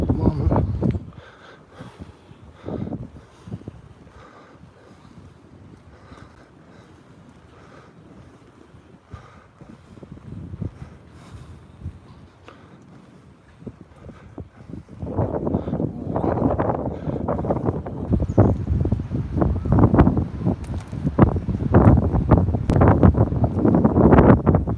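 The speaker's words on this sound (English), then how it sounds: "It's pretty gusty here." Gusty wind blowing outdoors in an open setting, with rough low rumbling buffeting on the microphone that grows stronger and more continuous in the second half, loud and steady with no talking.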